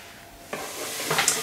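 Onion and garlic sautéing in a pan give a soft sizzle and hiss, with brief stirring scrapes, close and fairly quiet.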